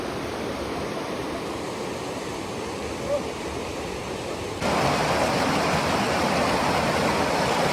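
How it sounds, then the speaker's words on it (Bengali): A waterfall pours down the hills of Sittong in North Bengal, producing a dense, continuous roar of rushing water that grows noticeably louder partway through, with no voices. "নেমেছে ঝর্ণা।"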